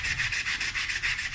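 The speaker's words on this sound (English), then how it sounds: "So when sanding, we were using a sanding block" Wood turning on a lathe is sanded with a sanding block along the grain, giving a steady rasping rub that pulses in quick regular strokes, loud and close with no voices.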